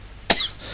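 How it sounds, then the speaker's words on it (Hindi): A single short, sharp cough from an adult man during a homeopathy class, close to the mic over faint room noise. "मुझे जो खांसी हुई है"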